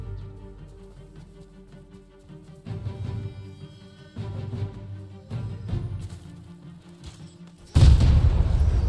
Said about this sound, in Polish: O kurwa, wybuchło!